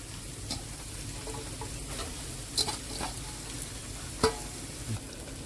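Torn parotta with turmeric and chili powder sizzles in a pan, a quiet continuous frying hiss broken by a few soft scraping clinks of a utensil, with no voices.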